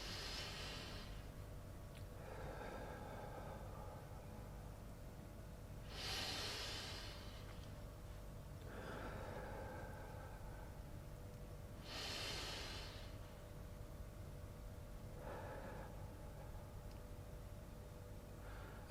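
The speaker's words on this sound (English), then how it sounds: "So just breathing in and out and focusing on your center." Slow, deliberate breathing in and out for centering and calming, several long audible breaths spaced a few seconds apart, close and alone in a quiet room.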